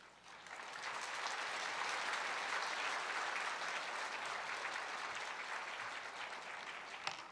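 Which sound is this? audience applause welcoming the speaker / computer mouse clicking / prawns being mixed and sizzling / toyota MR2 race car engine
audience applause welcoming the speaker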